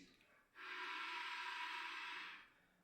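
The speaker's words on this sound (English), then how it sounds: "sound of air moving through mouthpiece like this." A single breathy hiss of air through a clarinet mouthpiece, about two seconds long, steady and fairly soft, starting abruptly and fading at the end.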